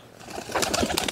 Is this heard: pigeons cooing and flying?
yes